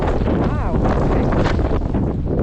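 Strong wind blasts the microphone during a New York City snow storm, a loud constant roaring buffet with gusty surges, with a voice talking faintly underneath.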